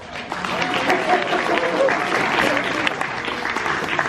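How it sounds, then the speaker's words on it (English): A crowd at Universal Orlando's horror make-up show claps steadily in dense, sustained applause, loud and close throughout with a little cheering mixed in. "Give him a big round of applause."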